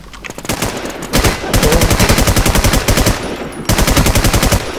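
Automatic gunfire in a video game, loud close bursts of rapid, evenly spaced shots that run for several seconds with brief pauses between strings.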